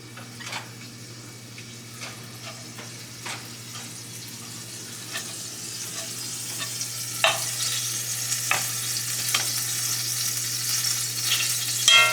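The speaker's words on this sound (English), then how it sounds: "cast iron can kind of splatter all over the place like this is doing right now" Meat sizzling and spitting in a hot cast iron pan on a stovetop, a steady frying hiss with scattered sharp pops and crackles that grow denser and louder over time, plus a low constant hum beneath.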